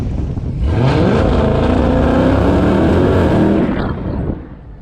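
A 1000-horsepower Hellcat floored at full throttle, its engine roaring loud and close in a steady rising surge that holds for several seconds before easing off.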